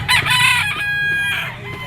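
A 2.5-year-old Kelso bloodline rooster crows loudly and up close, a long drawn-out call broken by a few clucks, with no voices over it.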